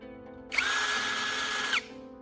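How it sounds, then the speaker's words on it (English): A power drill fitted with a DIY knife sharpener whirs at a steady high pitch for just over a second, starting and stopping abruptly against a quiet background. "I'm attaching our newly assembled sharpener to my power drill."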